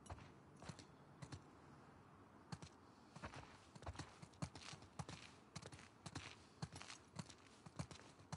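Horse hooves clip-clop in The Last of Us Part II, a steady sequence of sharp, fairly close hoofbeats with faint creaks over quiet wind-like ambience, no talk.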